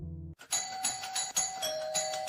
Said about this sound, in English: the doorbell rang out jarringly